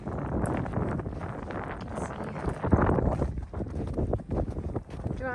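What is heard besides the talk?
strong wind on microphone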